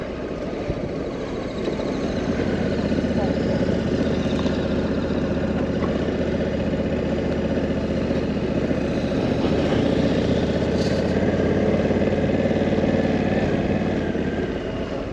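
Honda Africa Twin motorcycle engine running steadily and loud throughout, a continuous low rumble with no pauses and no talk, heard as a rider sets off along the Bridgestone Trail.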